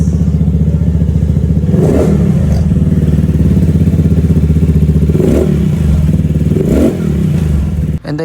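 Rusi RFI 175 motorcycle, bored out to a 185cc engine, running loud and close with a steady throbbing idle and three sharp throttle blips spaced a few seconds apart.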